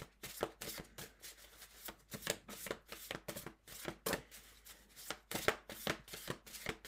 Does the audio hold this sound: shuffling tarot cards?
yes